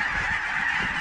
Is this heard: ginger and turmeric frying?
no